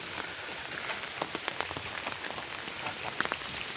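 Steady rain falling and pattering on surfaces, a dense, even hiss with scattered drop taps, fairly quiet and with no voices.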